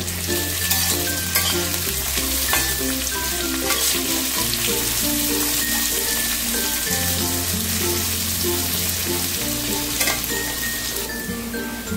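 Onions sizzle and crackle steadily in hot oil in a pan while cooking a gondhoraj lemon chicken, loud and continuous with occasional stirring.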